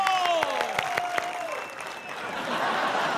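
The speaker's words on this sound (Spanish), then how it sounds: "vamos a escuchar el aplauso del público" A TV studio audience applauds during a late-night comedy show, the clapping steady and fairly loud while music tones slide down over it in the first second and a half, then settling into a dense wash of applause.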